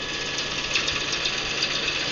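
The motor of a Twister Fu-180 wood lathe, a 1.5 horsepower machine, runs with a steady, even hum and faint vibration, close by and without talk.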